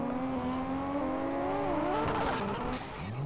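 Infernus sports car in GTA San Andreas multiplayer accelerating hard, a loud, close engine whine climbing through the gears with some tire squeal, no talk over it.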